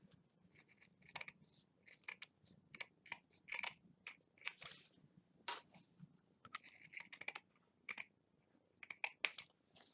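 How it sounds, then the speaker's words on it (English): Scissors trim excess denim from an upcycled jeans purse in a quiet room, a close run of crisp, irregular snips and cuts with short pauses between bursts. "So let me grab my scissors here."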